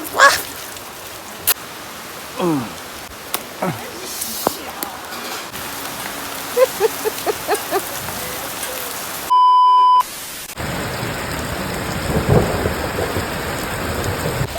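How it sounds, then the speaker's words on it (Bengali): Heavy morning rain pours down in a steady, loud hiss that fills the later half, with scattered knocks and a brief electronic beep before the downpour takes over. "আজকে দেখো সকাল সকাল বৃষ্টি, সকাল সকাল।"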